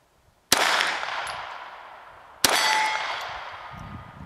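A cheap Jennings J-22 pistol fires two loud, sharp shots about two seconds apart, each crack followed by a long ringing decay.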